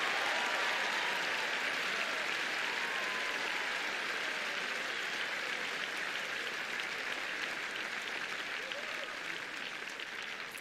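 Sustained applause from a tennis crowd at the Nottingham grass-court tournament, steady and dense for the whole stretch, fading slightly toward the end.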